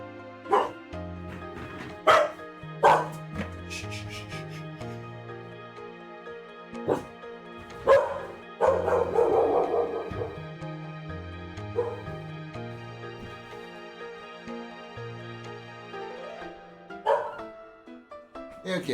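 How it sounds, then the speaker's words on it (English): A dog barks and yips in scattered bursts, some sharp and close, others muffled as if from outside, with whimpering between them and a steady musical background underneath. "she's gonna be barking outside for a while"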